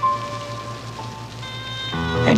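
Rain falling on a surface in a vintage TV commercial, a soft steady patter under tonal background music that swells toward the end.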